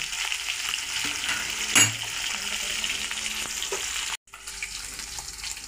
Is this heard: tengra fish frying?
yes